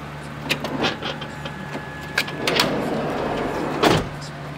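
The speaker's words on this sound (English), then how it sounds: "other power sliding door." A power sliding door on a 2005 Honda Odyssey EX-L minivan runs with a motor whine and mechanical clunks and latch clicks, heard close up and without talk.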